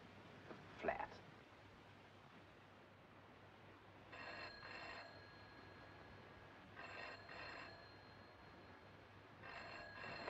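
A telephone rings in three separate bursts, each a double trill, fairly faint against a quiet background.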